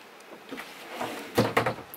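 A deep kitchen drawer in a Rapido 8094DF motorhome is pulled open close by, giving a short cluster of clunks and slides near the end of a quiet moment.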